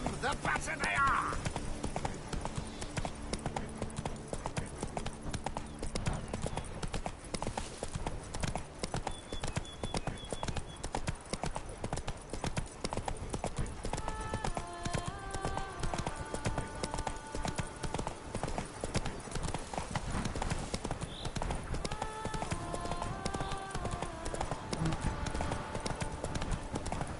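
Roach the horse galloping in The Witcher 3: Blood and Wine, a fast, continuous rhythm of hoofbeats with occasional snorts, steady and close beneath background game music and sounds.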